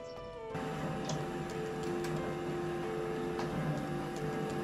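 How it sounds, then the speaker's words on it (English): A printer producing an A2 fine art print runs with a steady mechanical whir and faint ticking, starting up at once and continuing evenly at a quiet, close level with no voices. "This print being printed now is an A2 size."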